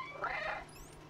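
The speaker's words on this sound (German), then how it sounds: "Miau." A cat meows in the video game Stray, a single drawn-out call of about a second, fairly close and clear over a steady low background hum.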